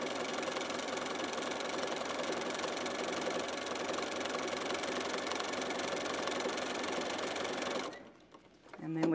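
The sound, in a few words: sewing machine stitching free-motion quilting swirls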